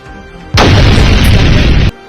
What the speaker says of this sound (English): Cannons thunder outside the walls of Guangzhou.